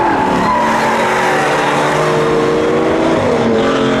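John Fielding's Chevy Camaro launches in a spectator drag race at Seekonk Speedway, its engine roaring loud and steady with rising harmonic pitch as it pulls away, a second car blending in with a hint of tire noise.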